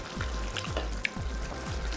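Tomatoes go into a spinach curry frying in a pan, giving a steady close sizzle and crackle over a low rhythmic rumble.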